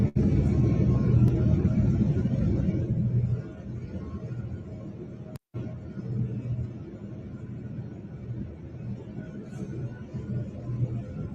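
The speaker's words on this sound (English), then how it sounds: "It's thundering." Thunder rolls as a low, sustained rumble throughout, loud at first and then easing slightly, with a brief dropout midway before the rumbling continues.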